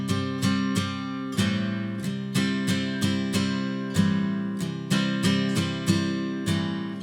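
Acoustic guitar strummed with steady all-downstroke chords for a worship song intro, each strum a bright, close attack followed by ringing decay, played alone at an even, moderately paced rhythm with no talking.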